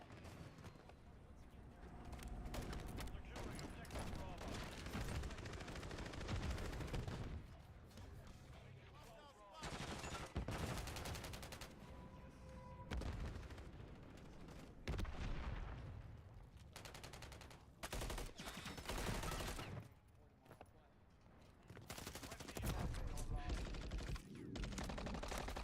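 Video game gunfire rattles in rapid automatic bursts and fusillades, dense and continuous with brief lulls, loud throughout, with a voice occasionally talking over it.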